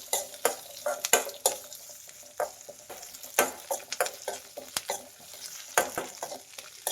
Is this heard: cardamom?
yes